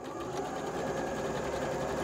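A sewing machine runs steadily, stitching quilt squares together along a drawn guide line, its rapid needle rhythm holding an even, continuous hum for the whole stretch with no talk.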